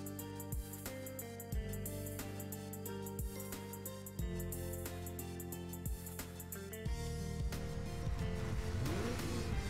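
Car engine racing in Midnight Club 3 among muscle cars: a loud, steady game engine drone that climbs through repeated gear shifts with rising revs, continuous and up close.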